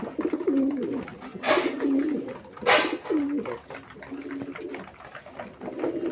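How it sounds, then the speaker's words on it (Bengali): A few pigeons coo in a coop, giving low repeated throaty calls at a steady pace, with two brief rustling bursts of movement and faint background noise. "এই পায়রার ঘরে এখন এই কটাই পায়রা বেঁচেছে আমার।"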